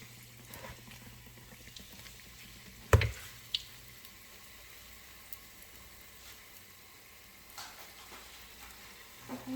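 Puff-puff dough fries in hot oil, a quiet continuous sizzle punctuated by a few sharp clatters and splashes as pieces are added or moved, with no talking.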